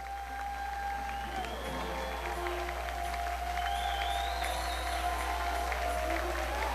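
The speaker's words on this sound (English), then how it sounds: "give them a thunderous round of applause" Audience applause and cheering for contestants at the Miss Gay America 2009 pageant: a steady wash of clapping and crowd noise, fairly distant, with faint musical tones running through it.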